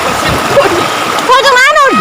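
Water splashes and churns loudly in a strong river current during a swim at Garcia Hernandez, a steady rushing wash with voices shouting over it.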